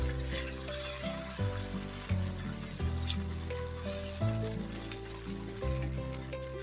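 Semolina batter sizzles steadily in a hot pan, a continuous close frying hiss with a low tonal hum running underneath throughout, no voices.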